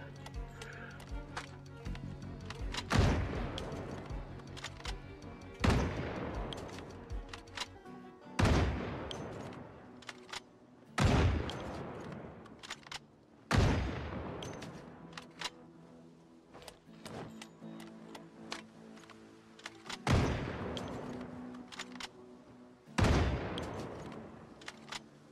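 Gunfire from a firearm in the zombie survival game Project Zomboid, fired on a range: loud single shots spaced a few seconds apart, each with a sharp crack and a short ringing tail over a steady background hum.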